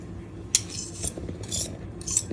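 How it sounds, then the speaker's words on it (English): Back of a spoon rubbing against the side of a mixing bowl during the butter-and-sugar stage of a chocolate cake batter, giving soft scraping strokes with a few brighter metallic scrapes, close and fairly quiet. "you take the back of the spoon and you rub it against the side of the bowl"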